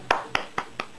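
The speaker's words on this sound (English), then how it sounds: "clap, clap, clap, there we go" Four crisp hand claps, close and evenly spaced about a quarter second apart, each a sharp snap with a brief ring, standing alone against a quiet background.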